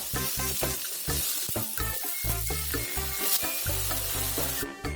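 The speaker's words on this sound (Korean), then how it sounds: "프라이팬에 기름을 두르고 노릿노릿하게 구워주었고요" Tofu slices pan-frying in oil until golden, giving a steady close sizzle and crackle with occasional spatters throughout, no voices.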